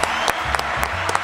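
A studio audience on a comedy talk show claps briefly, a short burst of applause with a few sharp claps standing out, close and loud, with a voice briefly over it.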